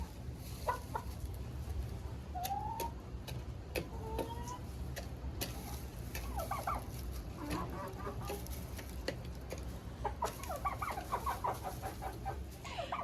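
Hens cluck and murmur softly inside a henhouse with straw nesting boxes, several short calls scattered over a steady low background hum, fairly quiet and moderately close.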